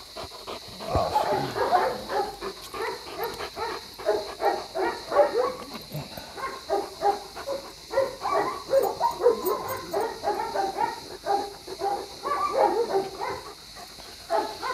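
A male dog barks, yips and whimpers in rapid, uneven bursts close by, with a few short gaps, over a faint steady background hum.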